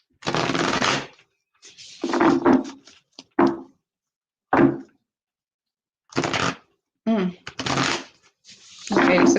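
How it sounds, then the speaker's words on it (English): Tarot cards being shuffled by hand in several short riffling bursts separated by pauses, close and fairly crisp, with no talking over them. "just a couple more shuffles here for Serket."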